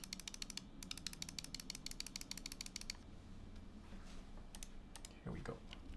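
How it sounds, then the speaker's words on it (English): Sharp computer mouse clicks, picked up at keyboard level during a QK80 keyboard build, come in quick dense runs for about three seconds, then a few scattered clicks, all faint against low background hiss. "This is how loud the mouse clicks are at keyboard level."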